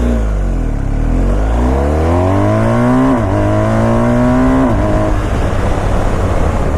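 A BMW R1250GS motorcycle pulls hard from a standstill to 100, its engine note climbing loud and close through rising revs with a couple of quick gear shifts, wind rushing underneath.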